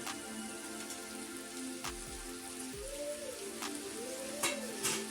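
Okra sabzi with capsicum and tomatoes sizzling in a pan, a steady soft crackle with a few light stirring knocks, fairly quiet and without talk.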